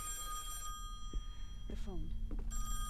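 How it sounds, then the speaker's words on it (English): A telephone rings inside the Song of Horror video game: a few clear rings stand out over a steady electronic hum and game ambience, fairly close. "The phone."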